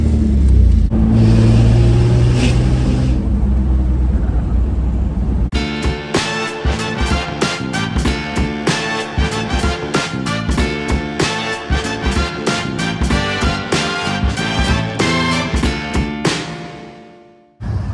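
An overland vehicle rolls along a road toward the start of the Georgia Traverse, its low engine rumble steady for about five seconds before loud rhythmic music takes over and masks it.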